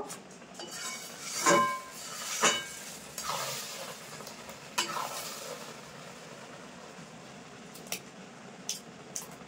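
A jujube pickle with jaggery reducing in a pan, stirred continuously, giving soft scraping strokes over a faint bubbling sizzle, with a few louder clanks early on and quieter taps later, close with no voices.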